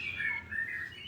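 A tame pet bird chirps in quick, bright tweets from close by, with short high calls repeating over a faint room hush.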